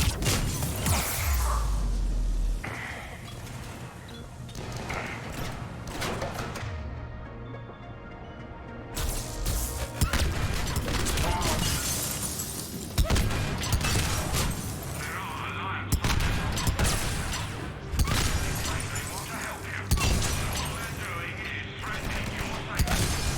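Gunfire and impacts in the sci-fi shooter Mass Effect 3, modded, with dense bursts of shots, booms and whooshes over music and voices talking, loud and busy throughout.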